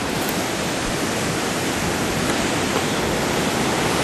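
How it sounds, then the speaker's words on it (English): Waves at an overcast beach make a continuous broadband rush of surf, steady and moderately loud, with no voices over it. "It is at the beach."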